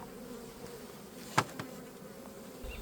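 Honeybees being placed into a small mini mating nuc, a faint close buzzing hum of many bees with a sharp knock or tap partway through.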